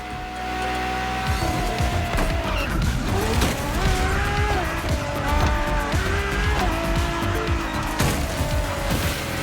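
Race cars in The Crew Motorfest video game, a Lamborghini against a Ferrari, roar loudly and steadily with rising and falling engine pitch as gears shift, joined by tire squeal and skidding, with no talk over them.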